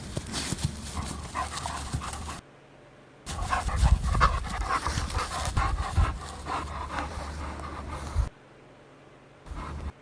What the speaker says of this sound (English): is there a dog in the background of this guy's video?